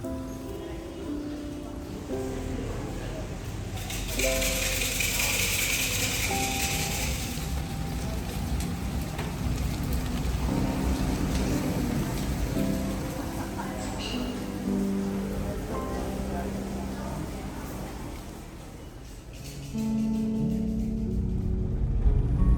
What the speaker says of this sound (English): while rainy days like today may slow you down a little bit, it creates a very powerful mood at a place like Wat Chalong